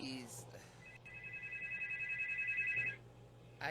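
A phone ringtone chimes steadily for about two seconds, an electronic repeating tone heard at moderate volume over a quiet room before cutting off.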